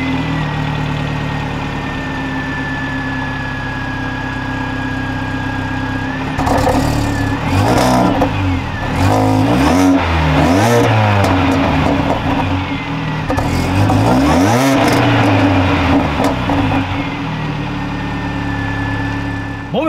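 A Mini Cooper S Stage 2 with a 230 hp supercharged engine idles loudly up close, then revs up and down twice, its pitch sweeping through swelling and falling surges, with supercharger whine over the steady idle.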